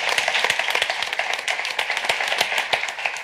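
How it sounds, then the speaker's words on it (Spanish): Audience applause for Paloma Llaneza at a talk on young people and social media, a dense steady crackle of many hands clapping together, fairly close and continuous throughout with no voices over it. "quiero que le demos un aplauso a, a Paloma Llaneza"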